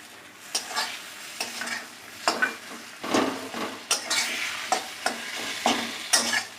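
A spice masala with tomato sautés in a pan, close sizzling broken by repeated rhythmic stirring scrapes of a spoon against the metal.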